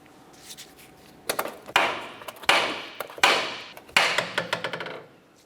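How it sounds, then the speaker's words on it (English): Sharp metal hammer strikes knocking an outer tie rod end loose from the steering knuckle of a 2009-2010 Pontiac Vibe, about seven to eight loud ringing blows in uneven rhythm, close by, with no talk. "Now we're going to continue by separating the tie rod from the knuckle."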